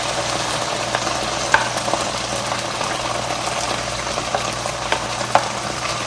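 Chopped medium-sized onion frying in a pan for tarka chana daal, giving a loud, steady sizzle with a few sharp pops and spatters.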